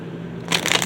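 Tarot cards are shuffled up close, a quick crisp riffle of rustling and flicking that starts partway through after a faint hum.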